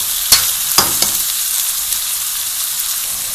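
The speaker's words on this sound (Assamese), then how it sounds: "এতিয়া মই এনেদৰে লৰাই ফ্ৰাই কৰি ল'ম" Pointed gourd stir-fried in oil with cumin, coriander, meat masala, chilli powder and turmeric, a loud close sizzle with sharp spatula clacks at the start, then steady frying hiss without talking.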